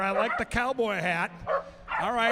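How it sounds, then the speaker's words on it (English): Corgis bark and yip in short bursts at a racing event at Canterbury Park, mixed under a person talking close by. "you can hear the barking and you can feel the tension"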